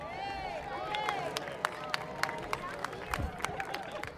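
An audience applauding at a library branch grand opening, many hands clapping in a steady dense patter with scattered sharper claps, while a voice speaks over the applause.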